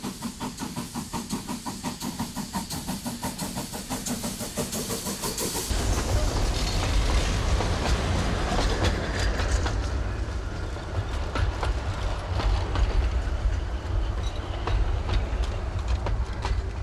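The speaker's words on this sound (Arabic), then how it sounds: "جاء القطار يدوي دوي فوق العالم، له صرخات هائلة" A train rolling over the rails near the historic railway station in Amman, a loud continuous rumbling roar with rhythmic clatter that deepens and grows heavier as it passes close by.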